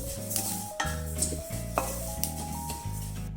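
Niger seeds dry roasting in a hot kadhai, with a steady soft sizzle and rustle broken by repeated scraping stirs and light metallic clinks from the utensil.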